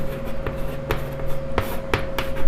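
Chalk or marker scratching across a board in short, uneven strokes with sharp taps between them, while a math problem is worked out. The writing sounds steady and fairly close, with a faint hum underneath and no talking.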